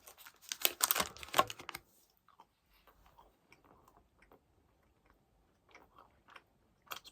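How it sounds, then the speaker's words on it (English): Close, quiet chewing of Nesquik milk chocolate with a milk filling: an initial burst of crunchy bites, then soft, sparse mouth sounds over near silence. "today I am trying Nesquik Milky and Yummy milk chocolate with milk filling."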